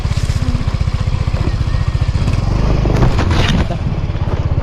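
A motorcycle rolls along slowly with a steady, pulsing low engine putter, loud and close, with a brief scraping rise near the end.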